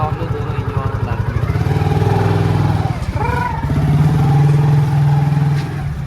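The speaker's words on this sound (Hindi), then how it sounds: "अब देखे मोटरसाइकिल चढ़ पाएगी नहीं चढ़ पाएगी" A motorcycle loaded with 50 kg sacks labors up a slope on a rough road to a farm field, its engine droning loud and close with a dip then a rising, straining rev.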